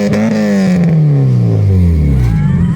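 A car engine revs loud and close, its pitch sliding down steadily as the revs fall away and the engine settles toward idle, with a rough, throaty tone throughout.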